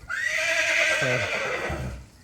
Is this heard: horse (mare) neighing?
yes